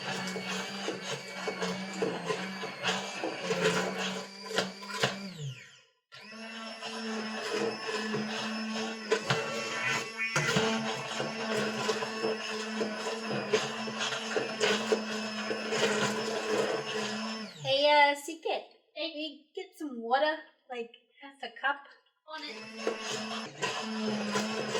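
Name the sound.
immersion blender pureeing tomatoes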